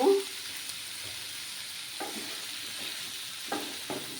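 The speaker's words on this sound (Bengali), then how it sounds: "এবার আমি আলু আর বেগুনগুলো দিয়ে দেব।" Potato and brinjal pieces fry in hot oil with a steady, soft sizzle. A few faint clinks and stirring scrapes break through now and then.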